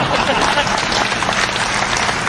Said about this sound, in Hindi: और तालियां भी चाहिए